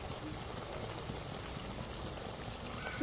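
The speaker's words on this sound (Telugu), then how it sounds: "ఇప్పుడు దీనిలోనే పులుసు పోస్తాను" Soaked tamarind juice poured into a simmering bitter gourd and tomato curry, a steady liquid pour with soft splashing and a faint bubbling underneath, fairly close and continuous throughout.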